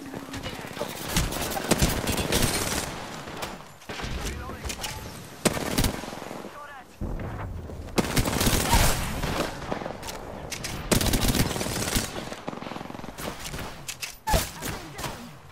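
Automatic gunfire in the video game Apex Legends, loud rapid bursts and fusillades that stop and start over about fifteen seconds, mixed with in-game impacts and brief voice callouts.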